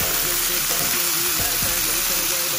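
Onions and cabbage sizzle steadily in a hot pan, a loud, dense frying hiss with a few soft stirring scrapes and no talking.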